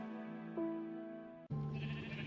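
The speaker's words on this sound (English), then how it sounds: "I got another sheep in here" Two short sheep bleats in Minecraft, loud and close, with the second, harsher call following a brief break right after the first.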